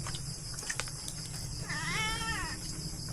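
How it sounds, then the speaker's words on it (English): A cat on a farm in the Philippines gives one drawn-out, wavering meow near the middle, fairly close, over a steady background hum with a few clicks before it. "Oh, he's getting attacked here by the cat."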